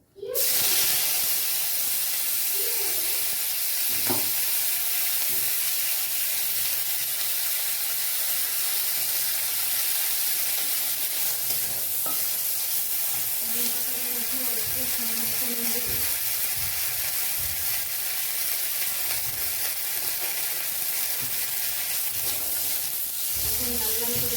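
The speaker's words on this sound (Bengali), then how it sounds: "এবার এই তেলটার মধ্যেই আমি নিম পাতাগুলো দিয়ে ভেজে নেবো।" Neem leaves fry in hot oil with a steady, broad sizzle and hiss that runs throughout, with brief stirring scrapes and a few faint background sounds, no talk.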